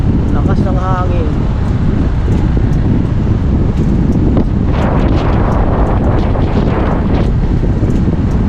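Strong wind roars steadily into the microphone for the whole stretch, loud and buffeting, with a voice speaking faintly underneath at times.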